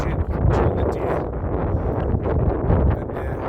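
Strong wind buffets the microphone outdoors in daylight, a continuous loud rumbling roar with gusty surges and no voices.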